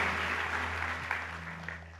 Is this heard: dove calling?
no